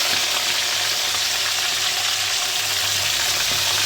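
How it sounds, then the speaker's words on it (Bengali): Chicken pieces frying in hot oil for a biryani, a steady dense crackling sizzle that holds close and loud for the whole stretch with no voices. "এইভাবে পুরো চিকেনগুলোকে ভাজবো।"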